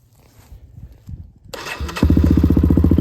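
A pit bike engine, fitted with a one-way starter bearing, cold starts without choke: a faint cranking stir, then it catches abruptly and settles into a loud, steady, close idle.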